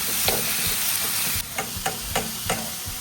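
Onions and tomatoes sizzle in a hot pan, a continuous frying hiss that drops slightly midway, followed by a run of sharp, evenly spaced spoon scrapes and taps against the pan.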